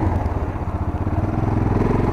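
A Honda CG 125 motorcycle rolls by on a mountain road, its single-cylinder engine putting out a loud, steady mid-pitched chug that throbs rhythmically close to the listener, with no speech.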